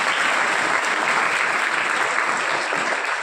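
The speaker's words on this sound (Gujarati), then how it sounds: "શૈલેષભાઈ તાળીઓથી બતાવો." Steady, dense applause from an audience at an education minister's address in Gujarat, sustained at a constant loud level throughout with no pauses or voices.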